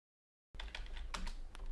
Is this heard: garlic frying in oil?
no